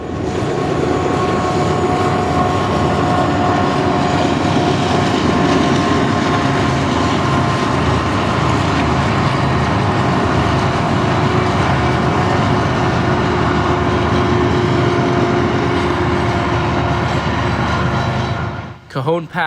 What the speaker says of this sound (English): this manifest train climbs the eastern side of the mountains towards Cajon Summit